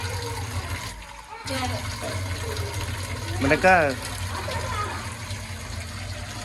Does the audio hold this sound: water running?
yes